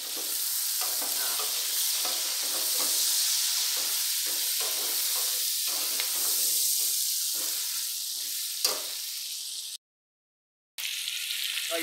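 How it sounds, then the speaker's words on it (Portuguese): Onion and sausage sizzle and hiss steadily as they sauté in a pan with golden garlic for a feijoada, with a constant frying crackle and occasional stirring taps; a brief gap of silence near the end. "Vamos colocar a cebola e a linguiça"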